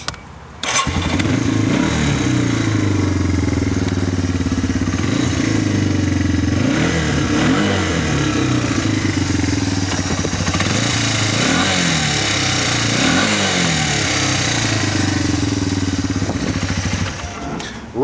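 A Yamaha Timberwolf 250 ATV engine idles steadily and close by on a cold day, rising in several repeated clean revving swells, loud and continuous with no voices.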